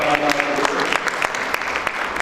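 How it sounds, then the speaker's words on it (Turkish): A seated audience at a Turkish session applauds a guest being welcomed on stage, a lively mix of sharp individual claps with a voice briefly audible underneath early on. "Alkışlarla misafirimiz"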